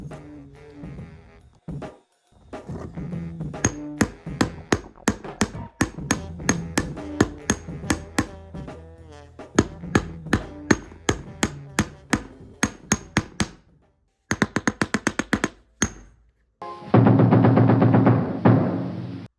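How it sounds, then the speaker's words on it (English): Repeated sharp hammer blows ring out in irregular bursts, some rapid and some spaced, with short pauses between series, as a part is hammered into a homemade lightsaber. "Gotta hammer it in."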